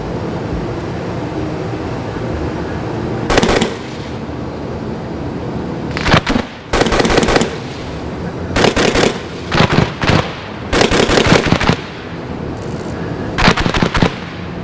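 Live weapons fire during a military firepower exercise, with a 40 mm automatic grenade launcher among the guns, sounding as loud sharp bursts and rapid repeated volleys in several separate strings over a steady outdoor rumble.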